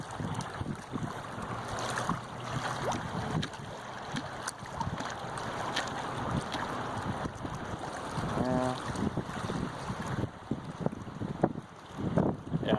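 Strong wind buffets the microphone at a lake during trout fishing, a steady broadband roar with gusting surges throughout and a brief tonal squeak partway through, with no talking.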